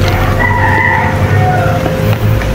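Roosters crow from some distance on a rainy day, faint calls rising over a steady rumble of background noise.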